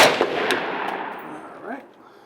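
A Type 81 SR Dragunov rifle fires at a target 50 yards away at an outdoor range, with sharp close reports and a long decaying echo that fades out.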